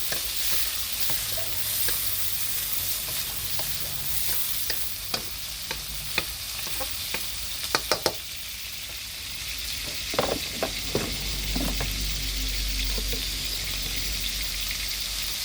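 Marinated pork, flat rice noodles and vegetables stir-fried in a pan, a continuous close sizzle broken by sharp clacks of a spatula against the pan.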